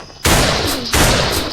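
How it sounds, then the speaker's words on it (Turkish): Two loud bursts of rapid video-game gunfire from GTA, the first lasting most of a second, the second continuing to the end, dense and close. "O silah sesini"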